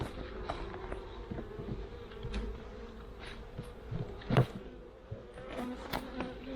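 A steady, low insect buzz of bees hums throughout, with brief louder passes and a few soft knocks near the middle.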